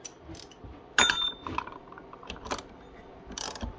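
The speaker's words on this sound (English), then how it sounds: "Take a regular ratchet" A hand ratchet turns the flywheel nut on a Honda GX160 engine, making quiet, close clicking with a few sharper metallic ticks spread unevenly across a short stretch.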